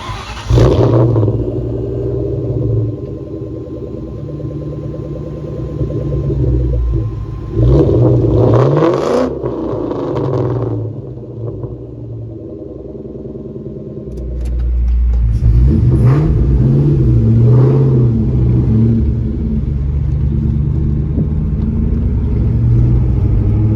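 A Ford Mustang Cobra engine drives and revs, with a steady low rumble and two louder rising revs around the middle and a strong, sustained acceleration toward the end.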